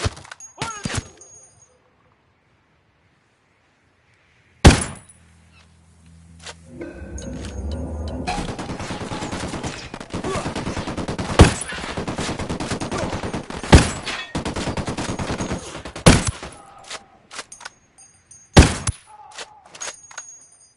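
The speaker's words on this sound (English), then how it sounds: "Firing!" Gunfire in Ghost Recon Wildlands: sharp, isolated shots crack out amid near silence, followed by a sustained stretch of rattling fire and rumbling with several louder reports punching through, and a few more single shots at the end.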